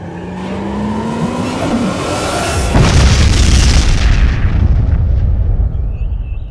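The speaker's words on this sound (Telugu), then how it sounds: "పిడుగు కాదన్నా, అక్కడెవరో బాంబు వేశారు" A bomb blast in a dubbed action movie scene: a rising whine gives way to a sudden loud boom at about three seconds, followed by a sustained, heavy rumbling roar that slowly fades.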